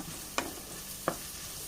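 Onions sautéing for a fish curry, a soft steady sizzle broken by two distinct clinks of a spoon against the pan.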